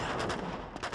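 Gunfire in the Uncharted 2 video game: a dense, continuous barrage of loud, close shots with rapid bursts throughout, no voices.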